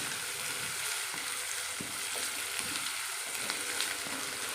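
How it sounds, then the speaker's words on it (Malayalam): Green chilies, curry leaves, ginger and garlic fry in oil for a bitter gourd and mango pickle, with a dense, continuous crackling sizzle that holds close and steady throughout. "ഈ പച്ചമുളകും കറിവേപ്പിലയും നമ്മുടെ ഇഞ്ചിയും വെളുത്തുള്ളിയും ഒക്കെ കൂടെ നന്നായിട്ടൊന്ന് വഴന്ന് കിട്ടണം"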